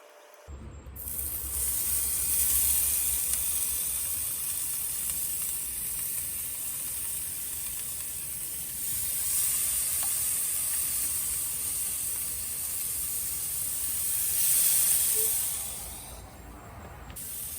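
Lime-glazed mahi mahi sizzles on hot cast iron grill grates in a Big Green Egg, a steady loud hiss that swells and eases a couple of times with no talking.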